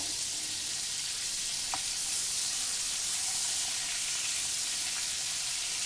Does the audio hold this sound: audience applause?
no